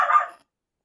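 A neighbour's dog barks once outside, a single short yelp-like bark heard alone and fairly near.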